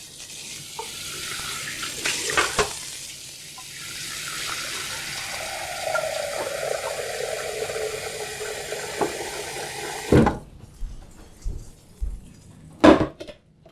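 Tap water runs into a pot for boiling vegetables, a steady stream that rises in pitch as the pot fills, then stops, followed by a few clanks of the pot being handled.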